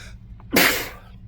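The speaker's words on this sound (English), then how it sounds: "Wow, that was a big sneeze" One big, forceful sneeze close to the microphone, with a short sharp intake and then an explosive burst that fades quickly over a low background hum.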